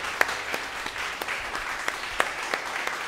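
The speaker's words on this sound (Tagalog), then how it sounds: "in every season, the Lord deserve my clap offering" A church congregation claps together in worship as a clap offering, a dense, steady wash of many hands with a few sharper near claps standing out, continuous and fairly loud throughout.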